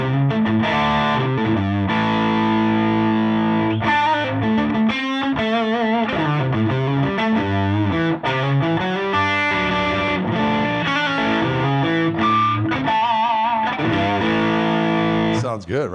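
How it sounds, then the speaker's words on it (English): Electric guitar through a Jetter distortion pedal into a Koch amplifier, a thick overdriven tone played as a continuous run of riffs and bent notes, loud and close. "That's the sound of that Jetter pedal."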